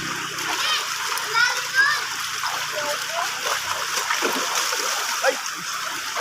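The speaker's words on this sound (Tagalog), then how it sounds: "kaya sa ilog nagligo" Children splash and play in a river, bathing outdoors, with steady water splatter and running-stream noise throughout and their voices calling out over it.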